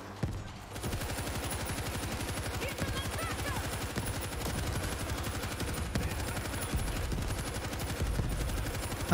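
Sustained rapid gunfire in the World War Z video game, dense automatic bursts and overlapping shots running almost continuously from start to end at fairly even loudness.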